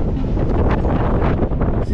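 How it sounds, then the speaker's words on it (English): Strong wind gusts batter the microphone on the open deck of a cruise ship at sea, a loud, continuous rumbling buffet with no pauses. "It's so freaking windy."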